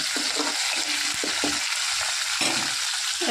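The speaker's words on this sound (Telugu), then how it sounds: "ఇగో కరివేపాకు వేస్తున్నాను. ఇది బాగా చిటపట వేగాలండి." Curry leaves and tempering seeds sizzle and crackle steadily in hot oil, a dense continuous hiss with occasional pops and light stirring, close and fairly loud.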